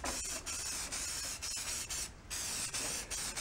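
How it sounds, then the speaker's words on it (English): Rust-Oleum paint and primer spray can hissing in steady, close, loud bursts with short pauses between passes, used on an old John Deere restoration project. "This is paint and primer one, and it is Rust-Oleum."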